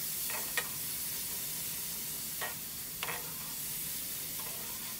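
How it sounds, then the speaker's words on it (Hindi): Chopped onions sauté in hot oil, giving a soft, steady sizzle with a few faint clinks of a stirring utensil against the pan. "प्याज को सोते करना है ऑयल में।"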